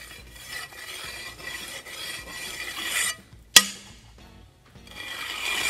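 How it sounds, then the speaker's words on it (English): A sled runner tooling the mortar of brick bed joints, a steady scraping rasp in long strokes, then one sharp click and a short quiet pause before the scraping resumes. "I prefer using a sled runner"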